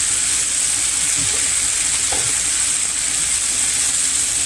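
Conch frying in a hot pan for Bahamian cracked conch, a steady soft sizzle with a couple of faint stirring scrapes, and no talk heard over the frying.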